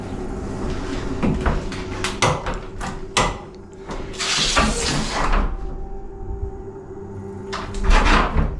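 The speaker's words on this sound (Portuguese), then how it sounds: "Abre essa porta. Abre essa porta." A door in a house is opened, with a series of wooden knocks, clunks and a longer scraping sweep, fairly close and loud, with a brief quiet pause before a final bump.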